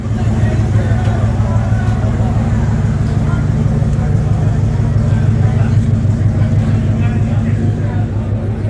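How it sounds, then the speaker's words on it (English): Cars idling and moving through a busy staging lot at a Barrett-Jackson collector car auction, a steady loud low engine rumble with rhythmic pulsing throughout, under a crowd murmur. "So lots of traffic out here too."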